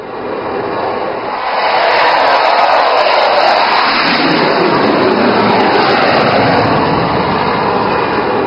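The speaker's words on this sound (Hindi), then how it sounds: "रफाल ने गर्जना करते हुए उड़ान भरी" A Rafale fighter jet roars loudly through its takeoff, a broad, steady engine rush that swells after the first two seconds and holds strong and close to the end.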